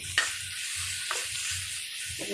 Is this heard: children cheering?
no